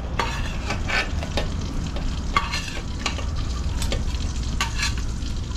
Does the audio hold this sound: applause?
no